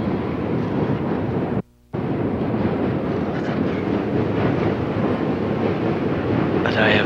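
A train rolling along its rails gives a steady, loud rumble with a brief dropout near the start.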